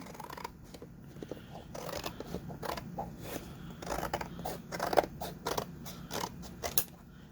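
Scissors cut paper for a junk journal in a quiet room, a string of soft, close snipping and creaking strokes in an uneven rhythm with light rustling between them.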